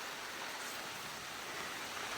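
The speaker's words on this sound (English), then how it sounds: "we're getting some rain" Steady rain falls over a Florida garden, an even hiss of drops that stays constant throughout with no voices.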